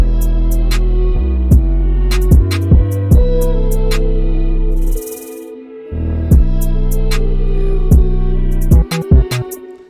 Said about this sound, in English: So the counter melody is just a violin that I've got right here.